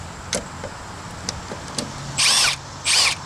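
Two bursts of a power drill backing a screw out of a deck board, each lasting a fraction of a second, up close, with light knocks and clatter between them.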